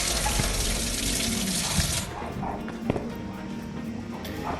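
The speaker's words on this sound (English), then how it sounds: "Oh, look, a shower. I need the shower." Shower water runs in the VR game Animal Company: a loud, steady hiss for about two seconds, then it drops to a quieter wash with faint knocks and a brief voice in the background.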